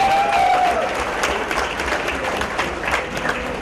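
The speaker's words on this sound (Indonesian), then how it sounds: "Tepuk tangan buat rakyat Indonesia." Applause from an audience at a press conference held by a campaign team in Jakarta, a dense, steady clapping that continues without a break.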